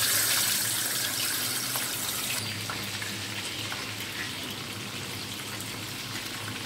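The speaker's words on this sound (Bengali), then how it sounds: "তেলটা গরম হয়ে গেছে, আমি মাছটা দিয়ে দিচ্ছি" Rupchanda (pomfret) fish fries in hot oil with a loud, dense, steady hiss that starts strong and settles slightly into a constant crackle, with no talking.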